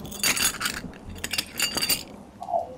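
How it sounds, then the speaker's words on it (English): A drive-in food tray is jerked from a car window and crashes to the ground in a radio drama. Dishes and cutlery clatter and clink in a quick scatter of glassy crashes, heard alone without voices. "I gave it a jerk, and it fell crashing to the ground."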